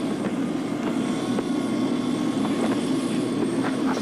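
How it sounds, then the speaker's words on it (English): Helicopter heard in a 1974 television promotion, a steady, continuous engine drone with faint rhythmic rotor thumps, holding constant loudness with no talking. "the Psst are about to escape by helicopter"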